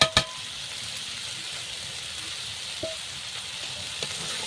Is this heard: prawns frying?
yes